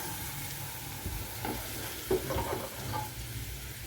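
Ginger paste frying in oil in a pan for a beef kebab, a steady sizzle with some stirring and scraping sounds, close and moderately loud, with no talk.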